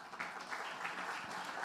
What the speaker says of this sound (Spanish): Por favor, recibamos con un aplauso a Magdalena.